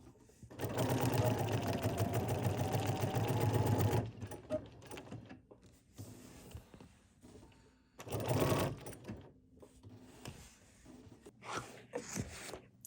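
A BERNINA sewing machine stitches decorative patterns in a steady rapid whir for several seconds, stops, then runs in shorter bursts with clicks and handling noises between, fairly quiet and close.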